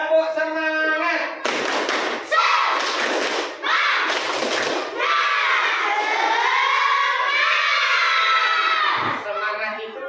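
Schoolchildren in a classroom doing the rhythmic tepuk semangat spirit clap, loud bursts of group clapping and shouting chanted in unison, with an adult voice leading before and after.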